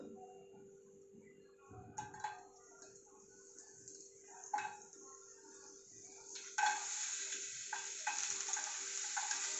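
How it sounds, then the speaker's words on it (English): Garlic and chili fry in oil in a pan, a faint soft sizzle with a few light stirring knocks and clatters, growing slightly brighter near the end. "Now I'm going to add in the garlic and chili."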